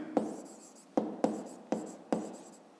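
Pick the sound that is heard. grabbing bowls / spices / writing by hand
writing by hand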